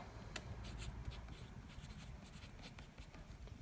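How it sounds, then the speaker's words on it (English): A Visconti Mirage fountain pen with a steel broad nib scratches across paper, faint close strokes in a soft irregular rhythm with one sharper tap near the start, alone without speech. "let's do a writing sample now with this pen"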